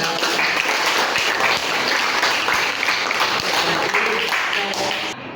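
An audience claps during a teacher-training class session, a dense, even wash of applause that holds steady for several seconds and then cuts off abruptly.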